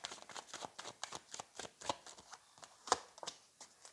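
Tarot cards being shuffled and drawn for a reading, a steady run of soft, quick riffling slaps and flicks, close and fairly quiet, with no talking over it.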